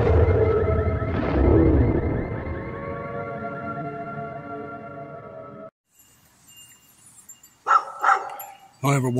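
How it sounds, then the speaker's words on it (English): A dog barks and howls in a long, drawn-out, tonal cry, then falls quiet before a few short, sharp barks near the end. "That's all they do is bark here."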